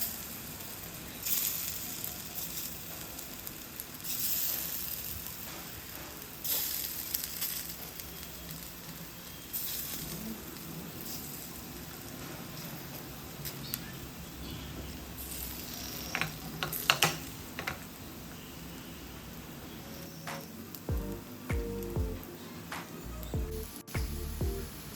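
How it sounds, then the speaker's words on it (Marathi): Coated paneer pieces shallow frying in hot oil, a soft steady sizzle running throughout with faint stirring clicks and a few low knocks near the end. "आता आपण शॅलो फ्राय करणार आहोत, त्यासाठी मी इथे टाकलेलं आहे तेल।"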